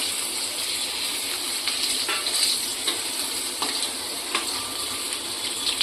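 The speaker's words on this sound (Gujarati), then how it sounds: "હવે આપણે આમાં ગેસ ધીમો કરી લઈશું અને તલ નાખી દઈશું" Sesame seeds sizzle in hot oil over a lowered gas flame, a continuous close frying hiss dotted with small crackles and pops, with no talking.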